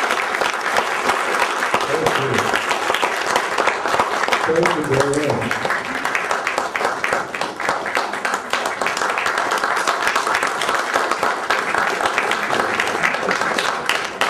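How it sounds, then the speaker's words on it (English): An audience gives a lecture by a historian a sustained round of applause, dense steady clapping filling the hall throughout, with a speaker saying thanks over it. "I think this deserves a round of applause."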